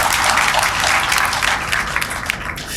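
An audience at a formal ceremony applauds, loud and continuous close clapping that eases slightly toward the end.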